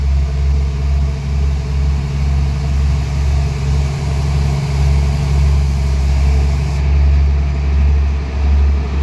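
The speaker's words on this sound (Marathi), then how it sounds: "जुगजुग गाडी" A heavy, loud, continuous low rumble rolls close by beside a railway track on a trek route, pulsing slightly throughout like a passing train's engine and wheels.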